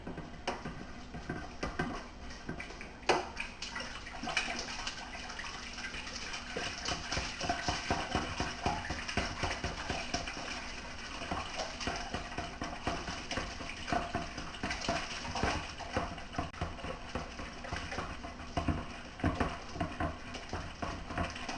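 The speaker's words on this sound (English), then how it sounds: "So let me also stir it so that way you can break it up too." A Coopers English bitter home-brew mixture is stirred in a fermenter, producing a continuous close sloshing and scraping with irregular knocks against the container.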